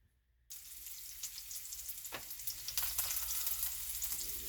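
Sausage, peppers and onions sizzle in a pan over medium-high heat, a continuous close frying hiss that begins abruptly after a brief silence and grows slightly louder, with small crackles throughout.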